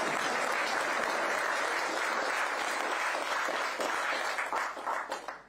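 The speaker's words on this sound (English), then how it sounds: "please clap" A crowd at a live political rally in Santa Rosa County breaks into sustained, full applause that holds strong and even, then thins and fades out over the last second.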